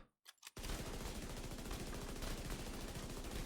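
Rapid automatic fire from the exotic Caduceus rifle in The Division 2, a dense, continuous loud stream of shots after a couple of brief clicks at the start.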